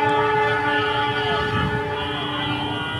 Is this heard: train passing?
yes